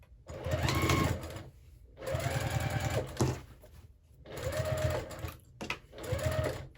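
Sewing machine stitching a quilted tote bag made from scrap fabric strips, running in four loud close bursts of about a second each, separated by short pauses, with no talking.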